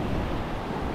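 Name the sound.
ocean waves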